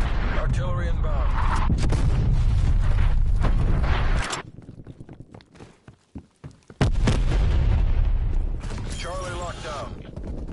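Incoming artillery strike in Call of Duty: Black Ops Cold War: loud, dense rumbling explosions and gunfire that cut out briefly in the middle and then surge back, with voices talking over the din.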